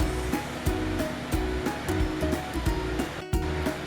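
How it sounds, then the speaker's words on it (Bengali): Mustard oil poured into a hot wok while cooking egg curry with poppy seeds, giving a steady, close, broadband sizzling hiss that runs throughout over a soft, rhythmic musical backing, with a brief dip near the end. "কড়া গরম হয়ে গেছে, এর মধ্যে আমি সরষের তেল ঢেলে দিচ্ছি।"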